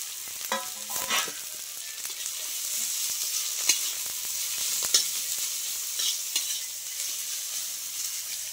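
Thalkuri greens and onions frying in white oil in a pan, with a steady close sizzle and scraping stirring strokes rising and falling throughout, no talking.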